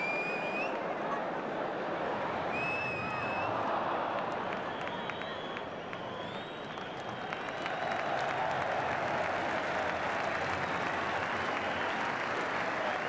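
A football crowd applauds steadily at half-time in a match between Oldham Athletic and Sheffield Wednesday, a dense, continuous roar of clapping and cheering from a large stadium audience that holds at full level throughout, with a brief whistle-like tone near the start.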